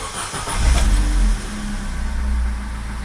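Vauxhall Corsa D 1.2 petrol engine cranking and catching after an oil service, settling into a steady low idle rumble close by, with no talking.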